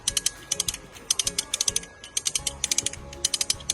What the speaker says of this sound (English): So we're just going to start tightening the cable a little bit, and then get it into a better position.